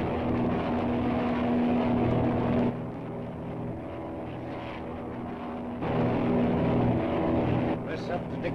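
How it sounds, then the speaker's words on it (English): Propeller airplane engine droning steadily in flight, a loud continuous hum that dips in level partway through and swells back, with people talking over it. "The regular plane's heading back, Dick."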